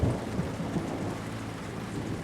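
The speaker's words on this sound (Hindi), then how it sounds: "बारिश हो रही है।" Steady rain with low rumbling thunder on a night when a car has broken down, a continuous, even wash of downpour with deep rolls underneath and no voices.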